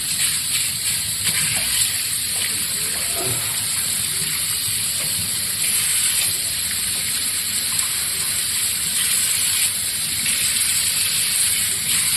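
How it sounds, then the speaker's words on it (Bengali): Tap water gushes steadily while fruits are washed in a home kitchen, a continuous close splashing rush with faint background household noise. "ফলগুলো ধুয়ে নিই"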